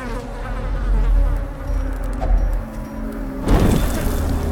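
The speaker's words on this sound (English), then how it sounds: "The maddening whine of multitudinous wings abates." A whining swarm of insect wings from the dark fantasy game Darkest Dungeon drones steadily and loudly throughout, a buzzing hum layered over low rumble, with a brief swell near the end.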